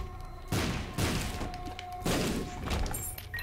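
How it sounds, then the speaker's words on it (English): A bomb goes off in the video game Binding of Isaac: Rebirth, with a few loud crunching blasts in quick succession over the busy game noise. "I just want to bomb out of here."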